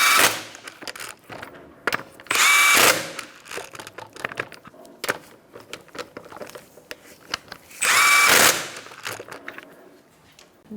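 A power tool tightens the wheel lug nuts on a 2014-2019 Kia Soul 1.6L, coming in two short, loud whirring bursts several seconds apart, with quieter clinks and handling noises between them.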